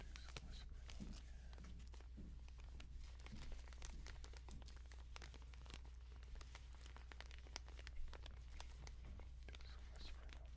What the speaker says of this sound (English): I do crinkling over there